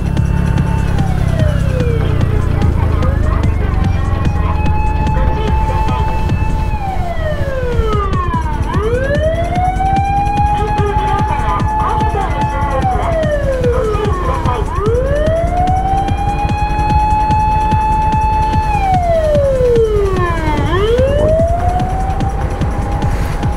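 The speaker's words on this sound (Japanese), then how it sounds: "消防車が1台今行きました" A fire engine siren wails, sweeping up and down in long repeated cycles, loud and sustained as it passes along the road in Japan.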